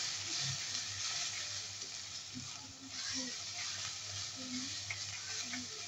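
Spice paste, including cumin and white pepper paste, is stirred into chicken in a hot pan, a soft steady sizzle with gentle scraping strokes from the spoon.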